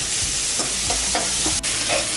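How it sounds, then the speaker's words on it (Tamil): Three chopped onions frying in a pan for vada curry, a close sizzle with repeated spoon scrapes and stirring knocks every half second or so, no voices. "இப்போது வெங்காயம் வதங்கிடுச்சு"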